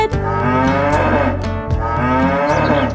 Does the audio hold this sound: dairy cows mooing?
yes